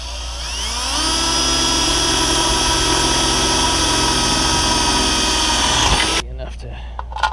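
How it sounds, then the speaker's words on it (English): A power drill bores holes into a boat mast, spinning up to a steady high-pitched whine that holds for about five seconds, then cuts off abruptly, leaving faint handling noises. "All right, trying to drill holes in the boat again."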